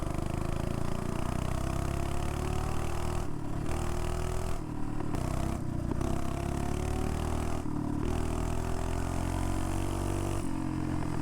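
Minibike with a Predator 212 engine riding along, a steady close engine drone with loud low rumble and brief dips as the throttle is let off, wind noise throughout.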